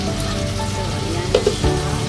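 Garlic sizzles steadily in butter in a hot pan for shrimp, a close, continuous frying crackle with a few soft clicks near the end.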